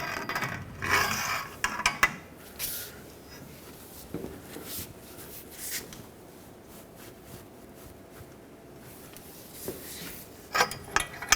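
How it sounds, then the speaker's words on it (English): Breaker bar with a pipe extension ratcheting as it tightens rear backing shield bolts on a 2011-2016 Ford F-350, giving a few close, sharp clicks and clanks at the start and end of the clip with quieter handling noise between. "I'm going to put my breaker bar on with a pipe for leverage on there and give them another 1/8 of a turn"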